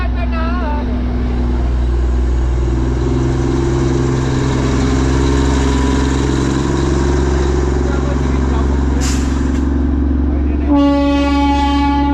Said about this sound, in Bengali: এটা হচ্ছে টয় ট্রেন যাচ্ছে এখন